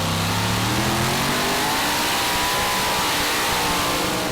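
Tractor pulling at the 2014 Eurocup in Brande, Denmark, 2.5-ton class, with two Brad Anderson motors roaring at full power, a loud sustained engine howl that dips and rises in pitch as it runs.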